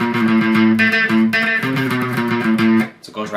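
Distorted electric guitar plays the short link riff from a song, made of quick doubled notes that repeat in a loud, driving, close pattern, then cut off near the end.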